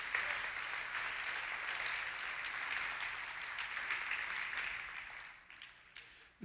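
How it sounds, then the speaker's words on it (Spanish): Sustained applause from a church congregation, steady and fairly distant, fading near the end. "Lo celebramos con un aplauso para Jesús."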